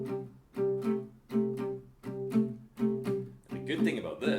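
A classic blues guitar pattern repeats in an even shuffle, with a steady run of plucked notes and chords at moderate volume and a busier, brighter flourish at the close.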